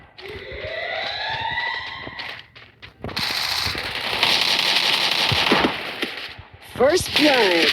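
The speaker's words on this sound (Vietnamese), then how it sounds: "Nhập đạn vô rồi bắn." Gunfire effects from the League of Legends video game, with sharp bursty shots mixed among rising synthetic tones and dense game effects over several seconds, fairly loud throughout.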